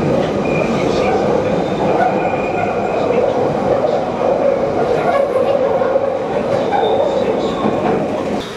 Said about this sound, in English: Hold on, there's a train going by.